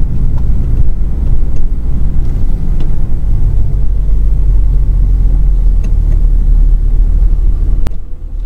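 Low, steady diesel drone of a 2001 BMW 730d heard from inside the cabin, a loud constant rumble dominating the low end with little variation and no talking.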